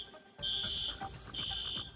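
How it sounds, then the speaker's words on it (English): Door alarms sound at an airport construction site, where a piercing electronic tone pulses in two loud, sustained beeps over a background of ambient noise. "The biggest concern is what I can hear now is alarms because the doors are opening for contractors walking through."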